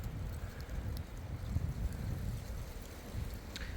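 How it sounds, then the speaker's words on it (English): Steady wind buffeting outdoors in a forest in November, a constant low rumble and rush against the microphone with no voices. "it's very windy out if you can tell"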